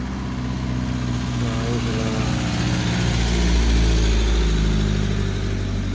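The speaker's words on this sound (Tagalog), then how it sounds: "ilang minuto na yung nakalipas, saka palang may darating na sasakyan" A car engine drones at a steady idle on the Banaue–Nueva Vizcaya mountain road, then swells briefly as it revs. The sound is loud and close, with talk over it.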